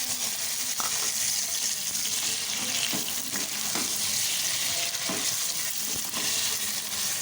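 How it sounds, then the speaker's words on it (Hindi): Onions, spices and tomatoes frying in a pan for whole moong dal, a steady close hiss of sizzling with occasional stirring scrapes and clinks, no talk. "प्याज वगैरह अच्छी तरह से फ्राई हो गया है। साथ ही टमाटर डाल दें।"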